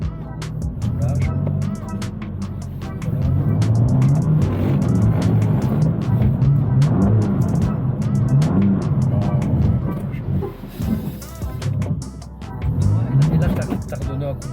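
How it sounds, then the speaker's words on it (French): A BMW M2 Competition drifting, heard from inside, with the engine revving hard, throttle blips and surging engine tone and some tyre noise, under steady conversation between the people in the car. "Et là, t'as redonné un coup de gaz en fait."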